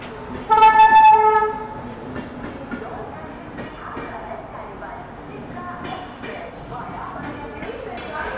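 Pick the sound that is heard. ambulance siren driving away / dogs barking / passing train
passing train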